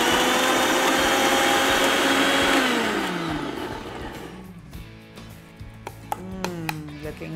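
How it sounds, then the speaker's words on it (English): An electric grinder blends a hummus mixture with roasted tahini, roaring loud and steady with a high motor whine, then winding down after about three seconds into a rattle of scattered clicks and short bursts. "So now I'm going to grind this entire mixture."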